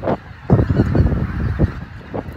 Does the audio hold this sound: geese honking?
yes